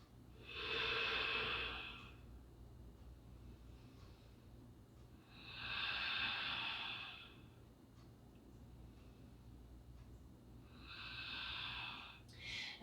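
Slow, deep breathing during an at-home vinyasa flow yoga practice: three long, steady breaths heard close up, each lasting a couple of seconds, with quiet pauses between them.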